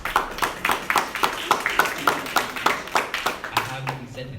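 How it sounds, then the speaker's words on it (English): Audience at a youth summer leadership academy election event claps in a steady rhythm of distinct, fairly close hand claps, about three per second, carrying on for several seconds before fading at the end. "Please give a round of applause for the following elected officials."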